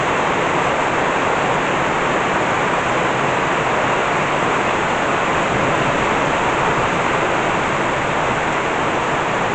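A constant, loud wash of heavy thunderstorm rain in Burgos fills the whole stretch, an unbroken roaring hiss of water falling close by, with nobody speaking.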